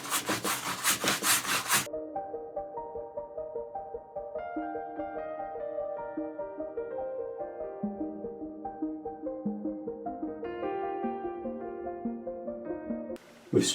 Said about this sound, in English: Now this is an oil painter's gel. So I'm just scrubbing it all over this canvas.